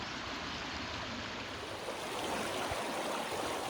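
A small woodland tributary stream at a wild camping spot, flowing in a steady, close, continuous rush and babble with no voices.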